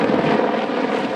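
Firefighting helicopters working over a 750-acre wildfire in the Chisos Mountains, a steady loud broadband rotor and engine roar that holds evenly throughout without any voices.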